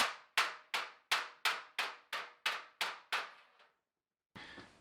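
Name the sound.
hammer and dolly on sheet metal of a C10 truck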